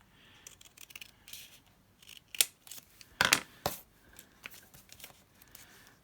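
Scissors trimming a strip off the top edge of a paper piece for a spring-to-summer craft project, heard as a few close, crisp snips with small paper rustles between them.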